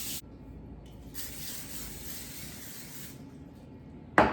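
Cooking spray misted over a portion of prepared vegetables, a soft steady hiss lasting a couple of seconds, with a sharp clatter at the end.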